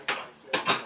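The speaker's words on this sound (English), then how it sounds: "yes, I'm doing dishes." Dishes, pots and cutlery clatter while being washed, two or three brief clinks and knocks close by with a soft wash of background noise between them.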